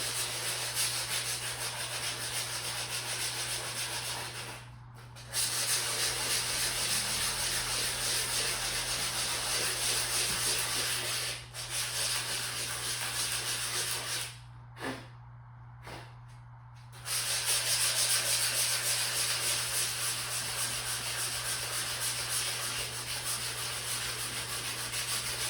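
Sanding a car bumper gives a steady close rasping rub with a constant hum beneath it, broken by brief pauses. It carries on for the whole stretch with no talk.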